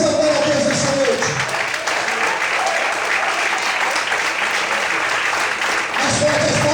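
A church congregation applauds loudly during an evening service, dense steady clapping filling the room with voices rising over it at the start and end.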